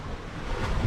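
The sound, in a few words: ocean waves at high tide in a sea cave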